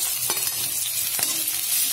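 Carrot and capsicum pieces stir-fry over high flame in a pan for cauliflower fried rice, a steady loud sizzle broken by a couple of sharp scrapes and stirs, with no voices.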